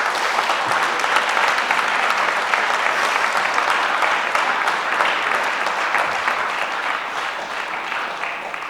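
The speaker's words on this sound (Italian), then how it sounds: "consentitemi di chiedere un applauso per questi nostri studenti" An audience gives students a long round of dense, steady applause at a school event, loud and sustained with the clapping easing slightly toward the end.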